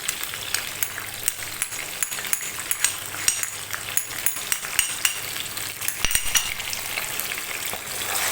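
Ginger garlic paste fries with tomato and onion in a pan, a steady loud sizzle with rhythmic stirring taps and clinks running throughout.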